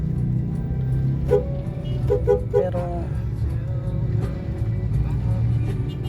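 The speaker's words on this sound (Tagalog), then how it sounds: "Ingat lang kasi may traffic." Road traffic rumbles low and steady, cars passing close with engine drone, a few brief horn-like tones, and a voice speaking briefly over it.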